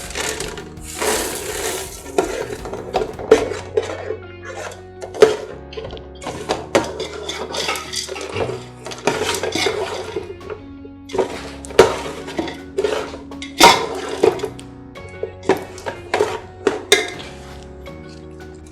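Roasted dal is stirred into thick jaggery syrup in a metal pan, making repeated loud scraping and clanking of a spoon against the pan in an uneven, busy rhythm. No voices are heard.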